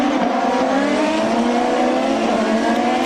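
A Champ Car racing through the 2006 Montreal Grand Prix, its high-pitched engine wailing steadily and loudly for about three seconds as it passes, with no talk over it.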